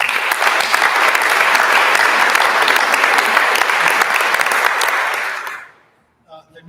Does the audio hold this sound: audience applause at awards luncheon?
yes